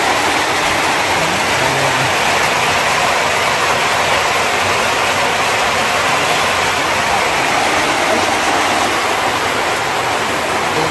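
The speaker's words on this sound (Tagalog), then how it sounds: "sobrang lakas ng ulan." Heavy rain pours down in a mountain area, a dense, loud and continuous roaring hiss with no pauses and no talking.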